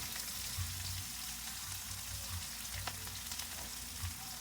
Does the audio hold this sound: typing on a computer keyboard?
no